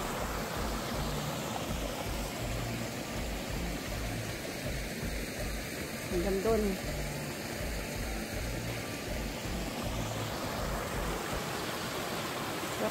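A backyard creek in the woods flows with a faint, steady watery rush, and a voice speaks briefly partway through.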